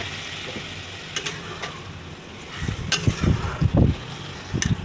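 Water poured into a pan of sizzling banana stem curry with potato and aubergine after the spices have been fried down, giving a low bubbling surge of splashes and hissing over steady background sizzle.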